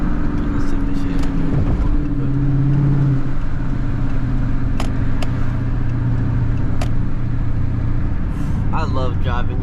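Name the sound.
Dodge Charger engine while driving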